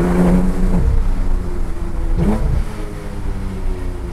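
A Porsche 991 GT2 RS or GT3 RS engine revs loudly and steadily from inside the car, with a rising and falling drone and a brief shift-like dip midway.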